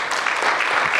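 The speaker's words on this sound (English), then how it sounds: "can we give a round of applause for Chris being here tonight?" An indoor audience at a suicide-awareness evening breaks into dense, even clapping, a loud continuous round of applause that fills the whole short moment without talk.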